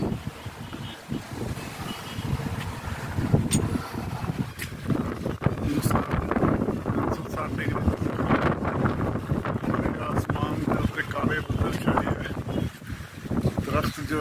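Strong wind gusts steadily across an open lakeside area in Canada at the end of August, roaring through swaying trees with a continuous broadband rush and buffeting the microphone throughout.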